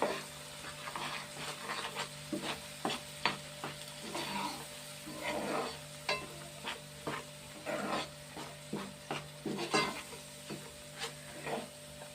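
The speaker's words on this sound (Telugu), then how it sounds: "ఇది నూనె వేగాలి." Food frying in oil in a pan, crackling and popping in irregular bursts over a steady low hiss, close and fairly quiet, with no talking.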